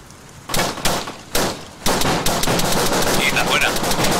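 Machine gun fire in the Arma 3 video game comes as two short, loud bursts, then a sustained stream of rapid shots that continues to the end.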